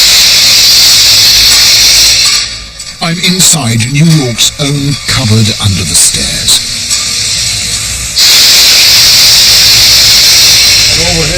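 Steam hisses loudly and steadily from a huge boiler plant heating New York homes and businesses, the hiss fading while someone speaks and then surging back at full strength.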